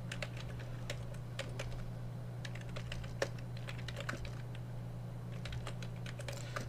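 Quiet, steady keystrokes on a computer keyboard during assembly programming on a Commodore 128, irregular clicks over a low hum, with no talking.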